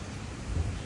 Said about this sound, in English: Love the sound of the river